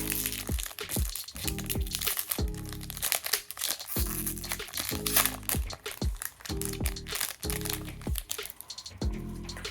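A Topps F1 Paddock Pass 2024 trading card pack is torn open and handled up close. Sharp foil crinkles and crackles repeat in rapid bursts, with quick slides of cards shuffled between them.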